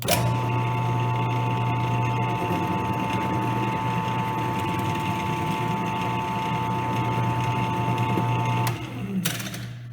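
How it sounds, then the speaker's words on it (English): A drill whines steadily as it bores a hole into a piece of scrap wood, a loud continuous motor hum that cuts off near the end with a brief clatter. "I'm just going to drill into this piece of scrap wood"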